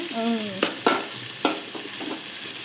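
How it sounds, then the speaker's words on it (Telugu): A home-cooked dish mixed in a pan over a low flame, with a few sharp spoon scrapes and clinks against the pan over a soft background hiss, brief and close, no talking. "కొంచెం లో ఫ్లేమ్లో పెట్టుకొని మిక్స్ చేసుకోవాలి."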